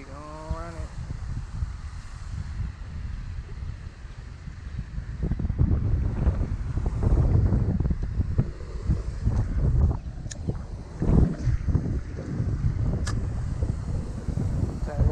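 Strong wind buffets the microphone over Lake St. Charles during a freshwater fishing boat trip, a loud, continuous roaring rumble with gusts that swell midway, and a voice heard briefly at the start.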